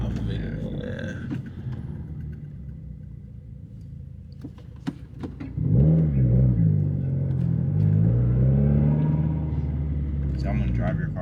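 A turbocharged car engine pulls hard, low and rumbling, swelling to a loud, close rising drone midway through after a quieter idle with scattered clicks, and holding strong to the end.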